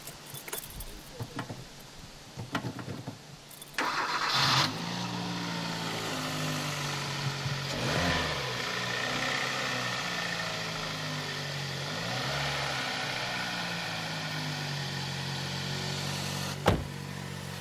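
A car engine cranks and catches after a jump start from a portable power pack during a roadside breakdown call, then settles into a steady idle that runs close and loud for most of the stretch, with a sharp click near the end.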